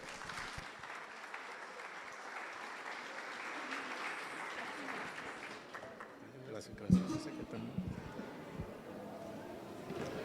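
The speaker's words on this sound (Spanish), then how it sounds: "Así que regáleme un fuerte aplauso" Applause from a congregation at a church assembly in Santa Tecla rises in a broad wash, then thins toward the end as a voice begins speaking over the fading claps.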